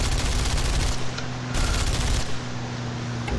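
Gunners' machine guns fire in War Thunder, a loud, continuous rattling burst over steady aircraft engine drone, pausing briefly and then resuming, with no talking.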